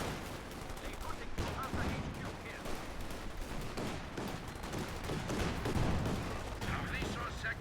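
Gunfire and bazooka shots in a strategy video game, scattered bursts of small-arms fire and heavier thumps under a commentator's talk.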